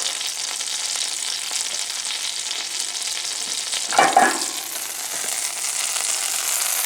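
Parsley and bacon fry in a non-stick pan, giving a steady close-up sizzle with a short burst of louder crackling partway through, and no voices.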